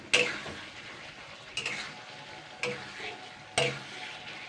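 Washed Malabar spinach fruit tipped into a hot pan of oil for a fish-oil curry, sizzling and frying as it is stirred, with four distinct scraping stirs at roughly one-second intervals over the steady hiss, close and moderately loud.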